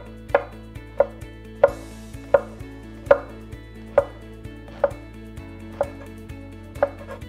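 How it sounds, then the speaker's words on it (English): A knife slices oyster mushrooms on a cutting board in about ten crisp, evenly paced chops, each a sharp tap against the board, close and clear with no talking. "These are oyster mushrooms. We're just going to slice those up gently."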